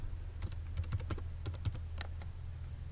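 A computer keyboard typing a command into a command prompt, with crisp, irregular keystrokes close to the mic over a steady low hum, no voices present.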